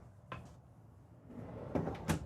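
A soft-close drawer in a Renegade Valencia 38RB RV glides shut, giving a couple of quiet knocks and soft thuds near the end amid low room tone.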